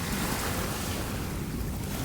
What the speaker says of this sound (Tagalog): Walang tigil yung alon